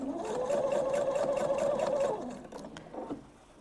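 A sewing machine runs close and steadily for about two seconds as it back-stitches trim onto a fabric thread catcher bag, then stops, followed by a few soft handling taps.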